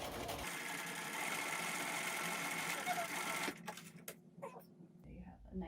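A sewing machine runs steadily for several seconds as it back-stitches the casing of a fabric face mask, then stops and gives way to quieter handling sounds.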